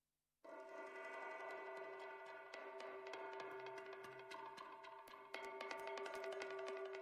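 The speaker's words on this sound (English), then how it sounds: "So the main thing I reiterated is this intro drummy tonal percussion stuff." A tonal, drum-like percussion loop from an electronic track intro plays alone at a steady level, with bright pitched metallic hits repeating over a sustained tone.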